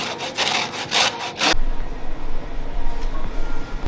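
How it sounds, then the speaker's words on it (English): A lemon peel scrapes against a grater for zest in a few quick, close rasping strokes, followed by a softer, steadier rustle. "The very outside edge of the citrus peel, when it's grated, is called zest."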